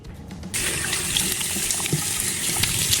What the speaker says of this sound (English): Now I'm done washing off the mask.